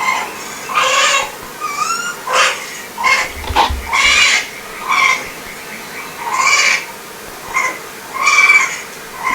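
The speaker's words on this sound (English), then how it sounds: "So raccoons are noisy critters. They have a lot of vocalization." Raccoon calls: a series of wavering, chattering trills and squeals repeating in short bursts about every second, close and fairly loud with no talk over them.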